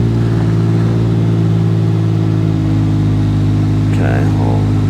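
A Porsche Cayman with a turbocharged 4.1-litre engine runs on a dyno, holding a steady low-rpm drone with strong harmonic hum that shifts slightly as revs climb slowly; a voice speaks briefly near the end.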